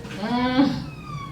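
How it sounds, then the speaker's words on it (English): Police sirens wail, rising and falling in pitch, heard briefly at a moderate distance over background noise. "the sirens can be heard in the background"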